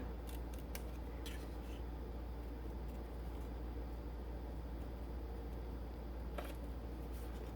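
Scissors trim card paper for a wedding, engagement or Valentine's card, a quick cluster of crisp snips near the start and another single cut later, faint and close over a steady low hum, with no talking.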